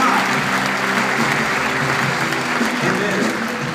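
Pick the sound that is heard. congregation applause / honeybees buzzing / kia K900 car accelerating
congregation applause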